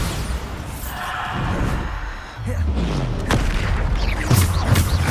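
Bombarda spell blasts in the Hogwarts Legacy video game boom and thud amid chaotic combat noise, with a couple of heavy impacts and sweeping magical whooshes layered over a busy, loud battle.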